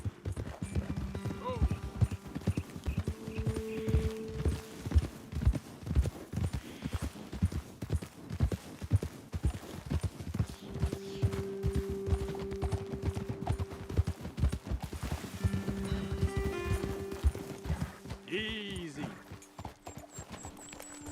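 Horse hooves clip-clop in a steady trotting rhythm in Red Dead Redemption 2, with a brief whinny near the end and someone talking over the hoofbeats.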